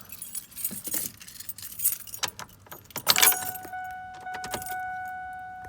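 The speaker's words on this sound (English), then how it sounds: "I can put the key in, which I will show you what it's gonna do." Keys jingle in several bright bursts as a key goes into the ignition of a 1999 Ford F-150 with an anti-theft fault. A steady electronic chime tone follows the insertion, close and clear.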